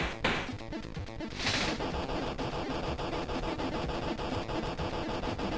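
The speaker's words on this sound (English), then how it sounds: "He's a killer because he's got a rapid fire shotgun on him." Croc's rapid-fire shotgun in a Batman fan-made video game: fast, evenly spaced blasts repeating in a steady stream, with a couple of brighter bursts early on, harsh and fairly close.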